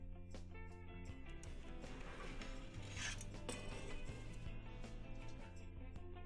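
A parallel mat guide is removed from a Logan Simplex mat cutter, giving faint mechanical clicks, ratcheting and sliding metal sounds in a quiet room.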